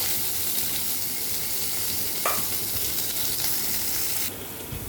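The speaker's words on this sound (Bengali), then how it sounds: "আমি আরেকটা কড়াই বসিয়ে দিয়েছি যাতে আমি করলাগুলো ভেজে নেব" Bitter gourd frying in oil in a wok gives a steady, loud, hissing sizzle that runs throughout, with a brief scrape midway and a slight drop in intensity near the end.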